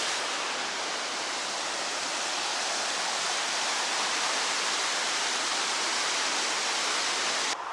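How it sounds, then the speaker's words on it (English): The fast-flowing Neretva river rushes through Mostar, producing a steady, loud, broadband roar of churning water that holds unbroken and close throughout, with no voices. "see how fast the river is here"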